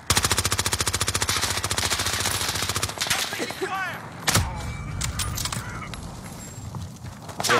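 Rapid bursts of light machine gun fire in a video game rattle loudly for the first three seconds, followed by scattered single shots, clatter and impacts, with a voice speaking over the action.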